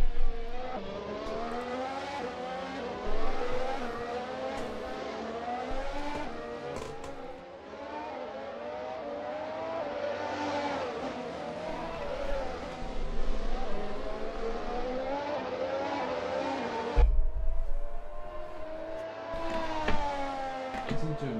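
Race car engines in a racing video game at Circuit of The Americas, a steady loud roar with shifting pitch that rises and falls over the whole stretch, briefly dipping near the end.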